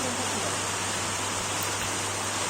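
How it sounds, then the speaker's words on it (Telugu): Rain falls steadily over a tomato field, a dense even hiss of drops filling the air, constant and fairly loud with a low hum underneath and no voices. "ఈ వర్షం అయితే ప్రజెంట్ అయితే ఇంకా పడుతూనే ఉంది"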